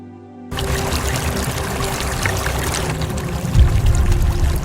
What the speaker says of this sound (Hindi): एक ऐसी वैली जहां इन्हें नदी बहती हुई दिखाई देती है